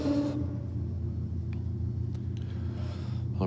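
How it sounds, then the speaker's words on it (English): A V6 Holden Commodore engine rumbles at Sydney Dragway, a steady low drone heard at a moderate distance with no voices over it. "it sounds like a pretty spicy V6 Commodore"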